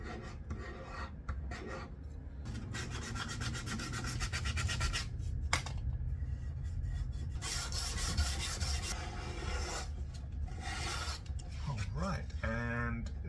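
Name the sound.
sanding violin fingerboard side with sandpaper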